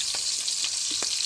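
Paksiw fish fries in a pan, giving a steady, close sizzling hiss with a few soft pops and taps over its brief length and no voices.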